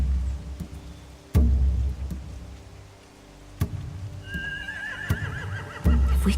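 A horse in the video game The Walking Dead gives a wavering neigh partway through, set against a noisy scene with low rumble and sharp thuds or clatters scattered throughout.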